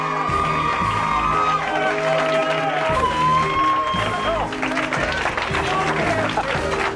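A large crowd cheers, whoops and applauds for Pomona High School senior Gage Boyd at a Super Student award presentation, with loud sustained noise and shouting throughout.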